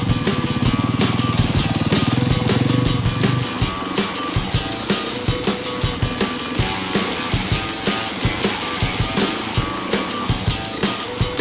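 An enduro motorcycle engine at slow riding speed: a steady, loud running drone for the first few seconds, then a lower idling putter with regular revving pulses, heard alone without talk.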